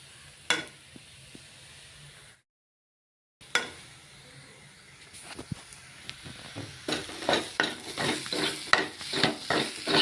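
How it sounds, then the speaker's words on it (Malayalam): Soybean chunks are stir-fried in a pan. Scattered scrapes and a light sizzle break off for a brief silent gap, then return as a quick run of loud, rhythmic scraping strokes close by. "അപ്പം സോയാബീൻ ഉണ്ട്, അത് നമുക്ക് ഒരു ഫ്രൈ പോലെ ആക്കിയെടുക്കാം."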